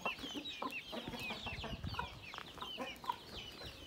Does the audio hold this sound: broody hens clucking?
yes